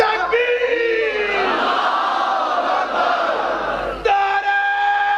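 A large religious gathering roars back a chanted slogan in unison, a loud sustained massed shout of many voices filling the hall, briefly dropping then swelling again near the end.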